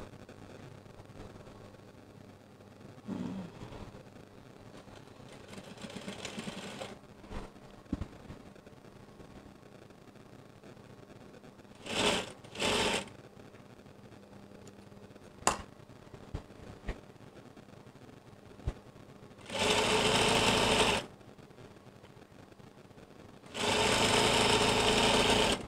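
Sewing machine stitching a one-inch hem on curtain fabric, heard as a few short separate bursts and then two longer loud runs of motor whir near the end, with quiet stretches between.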